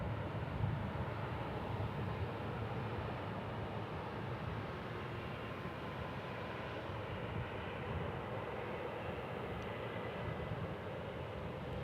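Aircraft at Kansas City International Airport, a steady broad jet engine roar held at an even level for the whole stretch, moderately distant, with no talking.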